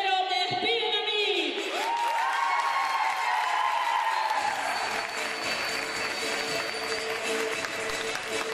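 Steady applause fills the whole stretch, loud and continuous, with a tonal musical sting and faint cheering over it.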